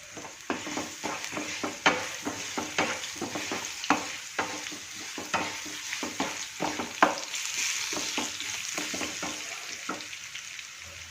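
Garlic and a pinch of asafoetida frying in a pan of hot oil, a steady sizzle broken by repeated scraping and stirring strokes, close and fairly quiet with no talk.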